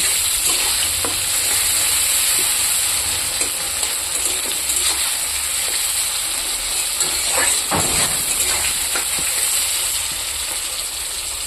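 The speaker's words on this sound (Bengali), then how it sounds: "মশলার সাথে টমেটো একটু ভাজবো।" Chopped tomatoes frying with mixed spices in a pan, giving a steady close sizzle and hiss throughout, with occasional stirring scrapes and clinks, no talking.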